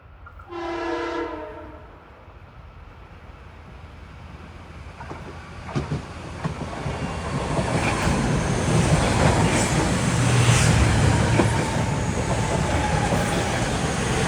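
A train horn sounds near the start, then a Metro-North commuter train of M3 cars rumbles closer and passes along the Hudson riverfront near Scarborough, with rising clatter and rail noise, loud and steady to the end.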